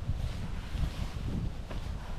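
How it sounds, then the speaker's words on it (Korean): Strong winter wind blows across the microphone outdoors beside a campground near the Hantan River canyon trail, a steady low rumbling buffet throughout with no voices. "바람이 꽤 많이 불어서"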